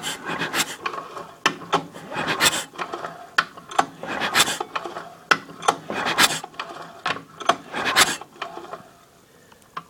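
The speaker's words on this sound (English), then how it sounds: "let's try giving it a pull over and see what we got." A Briggs and Stratton small engine with its head removed is pulled over by hand, giving repeated dry raspy scraping and mechanical rubbing strokes in an uneven rhythm, close and fairly quiet.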